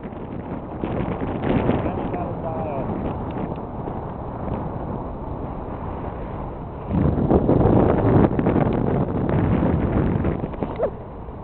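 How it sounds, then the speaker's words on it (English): Gusty wind of about 14 mph buffets the microphone with a steady roar that swells louder partway through, while a person talks in the background. "14 mile per hour wind here."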